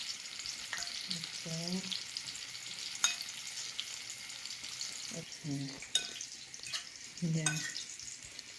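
Eggplant omelette (tortang talong) frying in a pan in a small home kitchen, a steady close sizzle with occasional scraping and stirring, and a few brief spoken words over it.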